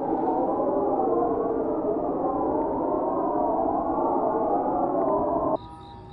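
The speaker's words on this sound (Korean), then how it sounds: "마을 전체에 공습경보 같은 사이렌 소리가 울려 퍼집니다." Air-raid-style siren from North Korean propaganda loudspeakers carries across Saengchang-ri village in Cheorwon, 3 km from the military demarcation line, at night: a loud, steady, wavering wail that drones on and then cuts off abruptly near the end.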